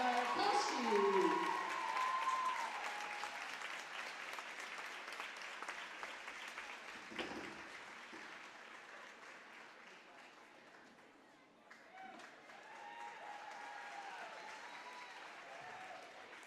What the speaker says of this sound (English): Let's have another round of applause for Heather Guykowski.